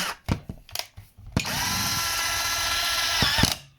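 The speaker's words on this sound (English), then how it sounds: "Option is to use the automatic screwdriver." A cordless automatic screwdriver drives a screw into an elevated desk during assembly, a steady loud whir running about two seconds, framed by short clicks and knocks of handling before and after.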